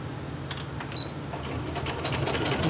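Sewing machine stitching fabric for a crumb crazy quilt block, a steady fast mechanical whir with rapid needle ticking, close and continuous.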